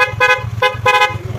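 A loud two-tone motorcycle horn honks in three short blasts, close by over a low idling engine rumble.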